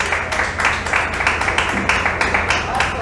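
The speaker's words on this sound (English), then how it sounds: "y'all give him a round of applause" Applause for Sebastian Sanders in a studio or live audience setting, dense steady clapping from a group, loud and continuous throughout the short stretch.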